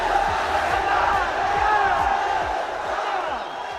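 Arena crowd roaring and cheering after Jayson Shaw's victory in the 2023 Hanoi Open Pool Championship final, a dense sustained wall of voices and whoops that stays loud throughout, easing slightly toward the end.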